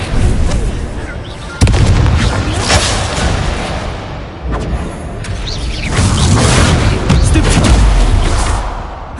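Incendio fire spell blasts in Hogwarts Legacy, loud booming bursts landing one after another with heavy low thuds and crackling tails amid ongoing combat noise.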